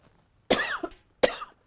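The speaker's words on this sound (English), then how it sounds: "Excuse me, I'm going to cough." Two sharp, close coughs from a person in a sewing studio, each a brief harsh burst separated by a short pause in an otherwise quiet room.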